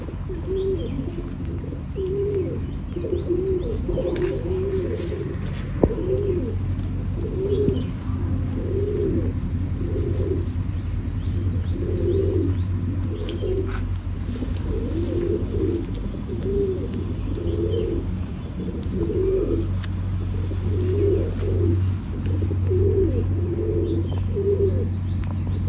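Davadi pigeons cooing in a loft, a run of soft repeated low coos in a steady rhythm, close and clear over a constant background hum and faint chirps, with no talk.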